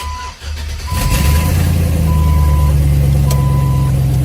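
A Jeep Wrangler TJ with a 5.3L LS V8 swap cranks and fires up, then settles into a loud, steady close-up idle while a repeating warning chime beeps over it.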